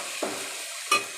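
Ginger garlic paste is stirred into fried onions in a chicken curry pan, with two quick scraping stirs over a continuous close sizzle.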